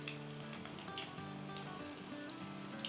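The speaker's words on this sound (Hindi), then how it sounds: "अब हम वहाँ चिकन डालते हैं" Chicken pieces, thick ones first, fry with onions in a pan, giving a steady, dense sizzle with constant crackling and popping, close and unbroken throughout.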